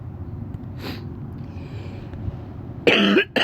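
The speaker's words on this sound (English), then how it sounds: "I had to clear my throat." A man clears his throat once, a short, loud and rasping burst near the end of a quiet stretch during a chess game session, with faint background noise before it.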